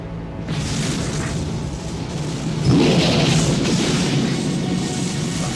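A burst of fire flaring up in the 1983 fantasy film Krull, a loud roaring whoosh that swells about halfway through over a dense, steady rumble, with no talking.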